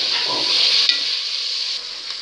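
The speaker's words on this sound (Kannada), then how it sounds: "ಮಟನ್ನು ಚೆನ್ನಾಗಿ ಫ್ರೈ ಆಗಿದೆ," Mutton pieces sizzle in hot oil in a pan while being cooked for biryani, a steady bright hiss with a brief scrape of stirring partway through, close and alone.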